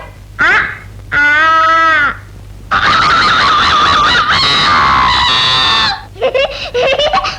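A person makes a series of loud, shrill squawking and crowing noises imitating a chicken, in several bursts with short pauses between, in a Kannada film comedy scene.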